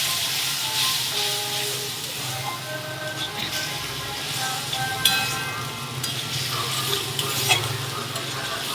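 Spice masala frying and being stirred in a pan for cauliflower kofta, a steady close sizzle with repeated scraping and clinking of the spoon throughout.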